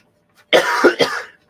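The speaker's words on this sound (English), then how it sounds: "Man, still got that cough." A man coughs in a short rough burst of two or three hacks, close and fairly loud, with a faint throat sound just before and quiet around it.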